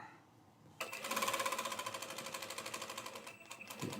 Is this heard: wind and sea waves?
no